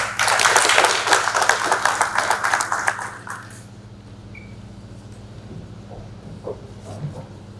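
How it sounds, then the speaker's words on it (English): Audience applause after a speech at an industrialisation indaba in the Free State, a burst of many hands clapping for about three seconds before fading to a quiet room with low hum. "A round of applause, please."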